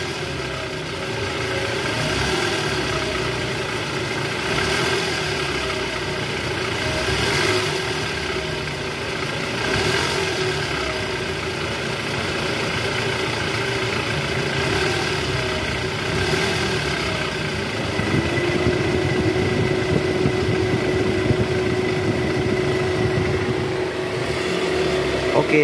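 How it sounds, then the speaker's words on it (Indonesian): Toyota Alphard engine idling smoothly, heard close from the side: a steady, even low hum with a faint mechanical whir, a slight rise in tone partway through, and no talking over it. "Oke, suara mesinnya halus ya guys."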